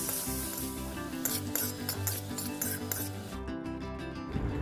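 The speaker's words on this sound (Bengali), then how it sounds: "সামান্য নেড়ে চেড়ে নুন হলুদটা মিশিয়ে নিচ্ছি আলুর সঙ্গে" Potatoes stirred in hot oil with salt and turmeric, a spoon rubbing and scraping through the pan over a soft sizzle, with a steady tonal background throughout.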